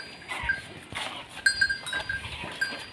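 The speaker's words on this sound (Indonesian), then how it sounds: "Nah, ini sapi-sapinya Pak Kosep." Farm animals call out in a barn housing cattle, with several short bleating or lowing cries, under steady ambient noise and a faint ringing tone, no speech.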